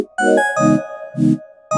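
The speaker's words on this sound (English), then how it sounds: "that sort of makes it so there's like this hollow bell kind of sound in the background" A hollow, bell-like synth tone from FL Studio's 3X Oscillator with reverb plays as a repeating melody of sustained notes, with low chords pulsing underneath in an even rhythm.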